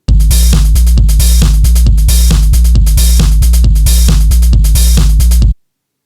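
A Behringer DeepMind synth patch with glide sits in a full song mix over a steady, punchy beat with strong low end, looping evenly for about five seconds before stopping abruptly.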